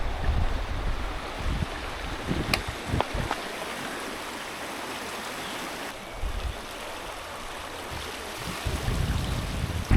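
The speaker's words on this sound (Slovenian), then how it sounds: "sem zagledal, kako je narasel potok Lijak" The Lijak creek, swollen after rain, rushes along in a broad, steady wash of water noise, with wind buffeting the microphone in low thumps and a few brief knocks over the flow.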